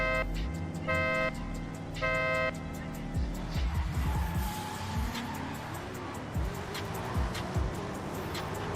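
A BMW and a Ford Mustang drift car chase each other in a drift competition at Okayama, their engines roaring loudly and tires squealing. Horn-like tones sound early, and the engine noise rises and falls as the cars swing through the course.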